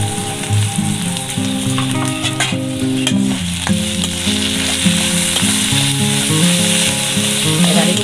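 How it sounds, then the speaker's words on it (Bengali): Mushrooms seasoned with salt and dried chili powder sizzle loudly in a hot pan while being stirred. The frying crackle is dense and constant, with no voices over it. "এবার এগুলিকে আমি নেড়ে চেড়ে ভালোভাবে কষিয়ে নেব।"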